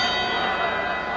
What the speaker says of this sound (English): The bell for second round action here in the Providence Civic Center.